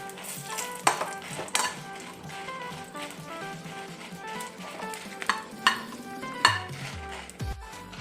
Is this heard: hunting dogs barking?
no